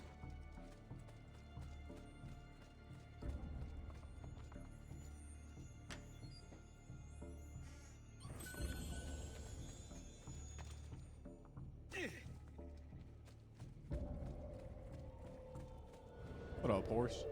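Horse hooves clip-clop in Assassin's Creed, a steady rhythmic clopping of a ridden horse under game music and voices, with louder bursts of activity partway through.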